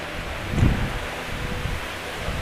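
Steady wind rushing and buffeting the microphone at a marsh bird hide at Lakenheath, a continuous broadband roar with a brief low gust thump, no voices.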